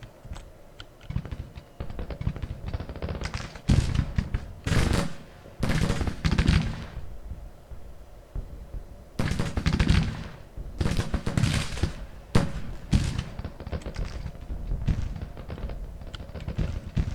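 Henry rifles in Grand Tactician: Civil War crackle in rapid, irregular volleys, with dense clusters of sharp shots rising and falling over a steady battle din and no talk.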